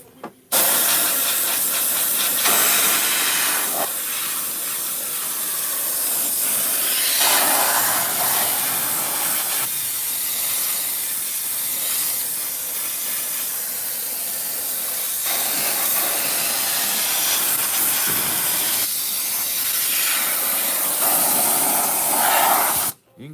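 Spray glue hisses steadily from a sprayer while wrapping curved pillars, a loud, close, continuous airy rush lasting the whole stretch with only brief dips.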